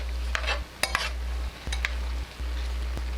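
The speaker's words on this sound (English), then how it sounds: "We take that lid off, and I'm just gonna give that a stir." Food cooking in a covered pan is stirred once the lid comes off: a few scraping, clinking strokes of a utensil over a steady low sizzle.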